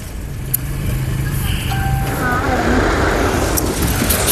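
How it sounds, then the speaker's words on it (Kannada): Heavy road traffic near a toll plaza in Hosakote during rain, heard as a dense, steady roar of vehicles with a few faint tonal horn-like notes rising briefly above it. "ತುಂಬ ಟ್ರಾಫಿಕ್ ಇದೆ ಹೊಸಕೋಟೆದಲ್ಲಿ"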